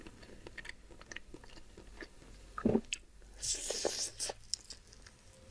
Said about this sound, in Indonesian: Kita cobain ayam saus Thailand.